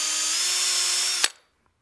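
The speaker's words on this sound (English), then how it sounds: "I stop barrel trimming once the brass tube is exposed and I've got a nice square end for those components to fit correctly into" A power-driven barrel trimmer whines steadily as it squares the end of a wooden pen blank down to the brass tube, loud and close, then stops abruptly with a brief clunk before silence.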